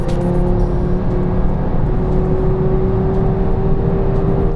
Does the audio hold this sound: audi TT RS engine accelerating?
yes